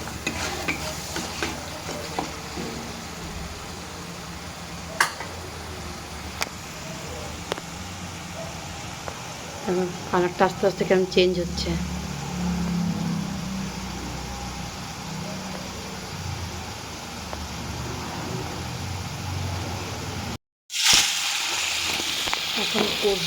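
Crab stir-frying in a pan with sauce and oil, a continuous close sizzle with stirring scrapes and spatula clicks, while a person talks quietly over it; a brief dropout near the end.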